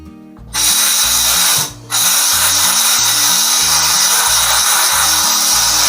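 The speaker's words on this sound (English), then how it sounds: "Clean the plug in my plug cleaner here." Spark plug cleaning in a plug cleaner for an MTD tractor engine: a loud, harsh, rhythmically pulsing abrasive whir, starting after a brief pause, cutting out once and resuming, close and alone.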